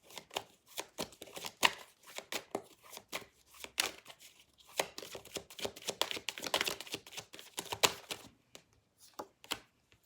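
Tarot cards shuffled and drawn for a love reading, an uneven series of sharp papery slaps, flicks and riffles in bursts and pauses, close and fairly clear without speech.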